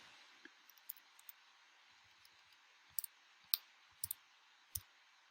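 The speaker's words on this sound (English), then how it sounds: "I'm way slow at typing this in." Sparse keyboard key clicks, irregular and fairly quiet, with small clusters of sharper taps toward the end over faint background hiss.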